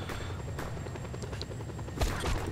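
Helicopter in the video game Just Cause 2, a steady loud rotor drone with scattered gunfire and an impact burst near the end, no voices over it.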